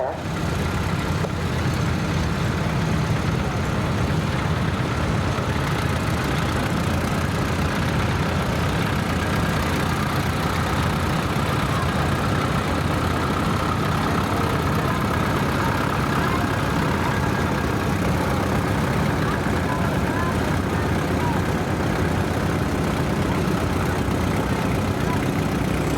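A restored antique Model 90 tractor runs steadily through an outdoor tractor show parade, its loud, continuous engine rumble holding unbroken and close for the whole stretch.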